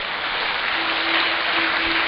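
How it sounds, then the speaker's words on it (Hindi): A crowd at a Bhagwat Katha gathering in Siliguri claps with hands raised, a thick, continuous wash of applause at steady loudness throughout. "और भी भूले भटके आयोजन से जुड़े हुए सबके लिए तालियां, दोनों हाथ उठाकर।"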